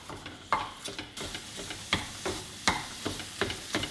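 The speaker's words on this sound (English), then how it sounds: "So what we're going to do is just go straight in there with the beef" Ground beef being stirred and broken up in a pan of cooked vegetables for spaghetti bolognese, giving a steady sizzle under repeated spatula scrapes and clacks, close and moderately loud, with no talking.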